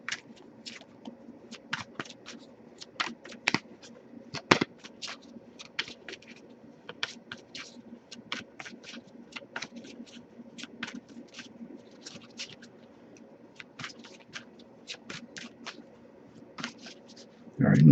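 Tarot cards are shuffled in quick, soft riffles and taps close by, with a steady low hum underneath and a louder thump at the end.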